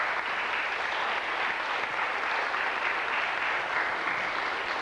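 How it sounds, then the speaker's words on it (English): Steady, dense audience applause fills a memorial concert hall in Roslea, Fermanagh, a continuous loud wash of many hands clapping without a break. "Give Mary a nice round of applause"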